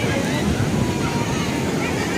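Sea waves washing onto the beach at Digha in the early morning, a steady broad roar of surf with wind buffeting the microphone, continuous and fairly loud throughout.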